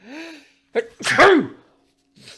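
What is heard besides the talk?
a person sneezing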